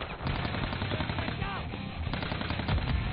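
Gunfire in an online shooter video game, with rapid automatic bursts crackling continuously and densely throughout, loud and close, with faint voices underneath.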